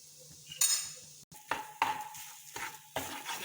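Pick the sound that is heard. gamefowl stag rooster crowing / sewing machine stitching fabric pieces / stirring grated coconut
stirring grated coconut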